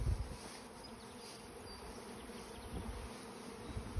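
Honey bees are scooped up by the half cup during a July mite check and dumped back into the hive. A faint, steady swarm buzz carries on throughout the clip, with no talking.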